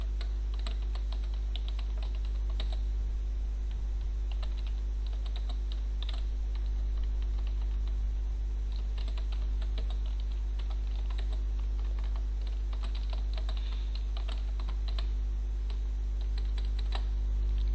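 Steady typing on a computer keyboard during a basic school computer lesson, with quick irregular key clicks running throughout over a constant low electrical hum, close and clear, no speech.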